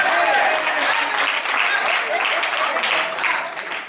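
Audience applause with dense hand clapping, loud and sustained throughout with voices mixed in, tapering slightly at the end.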